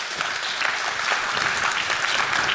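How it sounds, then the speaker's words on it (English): Brisk, full audience applause at an awards summit as a speaker returns to the stage, a steady close roll of many hands clapping throughout. "Give him a round of applause to say welcome back."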